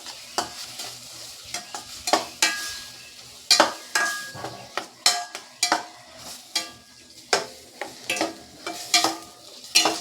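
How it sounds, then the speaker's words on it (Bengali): Ground coriander and turmeric with other spices are stir-fried in a pan for a pangas fish curry, with repeated scraping strokes of a spatula in an irregular rhythm over a soft sizzle. "সব মশলাগুলোকে একসঙ্গে আমি কষিয়ে নেব"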